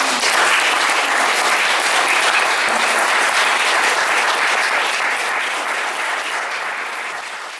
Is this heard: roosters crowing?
no